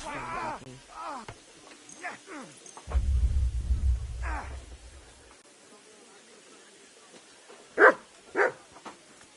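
Dog in the video game Kingdom Come 2 gives soft whines and yelps early on, then two sharp, loud barks near the end, with a low rumble and game voices in the background.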